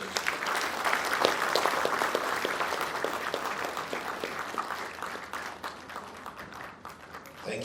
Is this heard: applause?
yes